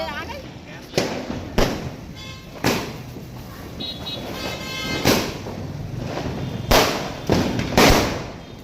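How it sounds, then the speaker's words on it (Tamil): Umbrella firecrackers burst during Diwali in a series of sharp pops and crackles spaced a second or two apart, with fizzing in between and voices talking over them. "அம்பர்லாம் கம்மி மத்தாப்பு வெடிக்கிறதா பார்க்கலாமா"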